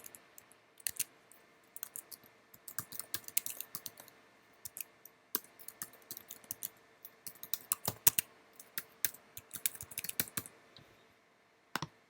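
Computer keyboard typing while configuring a software connection on a workstation: irregular bursts of crisp, close key clicks with short pauses between them, fairly quiet and with no talk.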